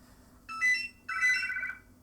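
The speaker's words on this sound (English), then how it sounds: "Goodness me, the home phone hasn't gone for a while." A landline home telephone rings in two short electronic warbling bursts, fairly faint and in the background, with no talking over it.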